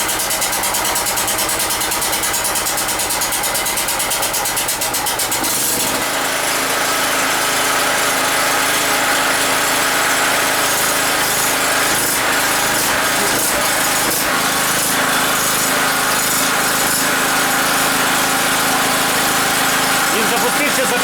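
A FEIDER FG3000-A petrol generator, rated 2.7/3.0 kW, runs steadily after starting first time, its loud continuous engine drone filling the scene, with a sharp shift in tone around six seconds before settling into an even running note.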